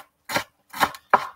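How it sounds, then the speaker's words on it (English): Three crisp knife chops through fresh coriander on a cutting board, evenly spaced and close up, with quiet gaps between strikes and no talking. "I'm just chopping up some coriander to put on top at the end"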